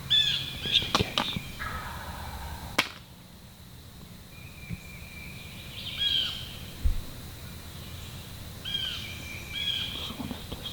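A fired-up wild turkey gobbles on Alabama public land, with several rapid, rattling calls spaced over ten seconds in a quiet outdoor setting, amid faint rustling and a few sharp clicks.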